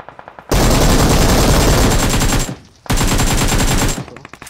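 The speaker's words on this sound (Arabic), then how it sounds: "طب ارمي طلقة على الكذيلي" Rapid automatic gunfire in a multiplayer shooting video game comes as two long, loud, dense bursts with a brief gap between them, dominating the sound with no talking.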